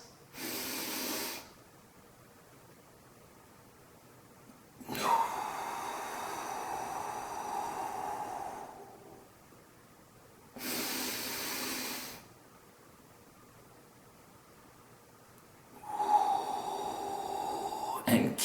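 Forceful rhythmic breathing during a spine stretching exercise: long, loud, hissing breaths alternating with quieter stretches, repeating in cycles of several seconds, close to the microphone.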